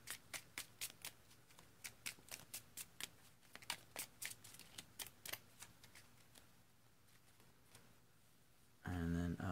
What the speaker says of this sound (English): So let's shuffle our deck, and then these two cards will go on top.